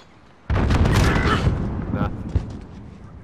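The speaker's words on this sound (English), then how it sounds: "I'm gonna throw a nade into their spawn like beasts." A grenade goes off in a multiplayer video game with one sudden loud boom. Rumbling debris follows and fades over a few seconds, with a smaller thump just after.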